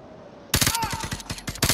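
Gunfire in Call of Duty Modern Warfare 2 Remastered: after a quiet moment, a rapid burst of loud, close shots rattles off in quick succession.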